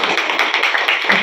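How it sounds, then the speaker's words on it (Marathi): Audience applause at a community event in Bhiwandi honouring school students, a dense steady wash of many hands clapping together without pause, fairly loud and close. "त्यांच्यासाठी पुन्हा एकदा जोरदार टाळ्या."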